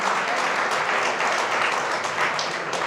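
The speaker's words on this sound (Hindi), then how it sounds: "एक बार जोर से एक बार फिर तालियों से" Sustained applause from an audience at an ACCI gathering in Indore, dense even clapping filling the room steadily from start to finish with no break.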